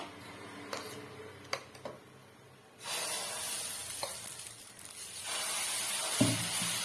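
Spinach rava dosa batter hitting a hot pan, a soft crackle that swells into a steady, loud hiss and sizzle, with a few clinks before it starts.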